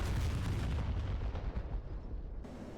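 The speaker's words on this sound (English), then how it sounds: "I just happened to have visually spotted it and dropped a bomb directly on it." A JDAM bomb hits an SA-8 launcher in the DCS combat flight simulator, producing a heavy, booming explosion that starts loud and rumbles away over a couple of seconds.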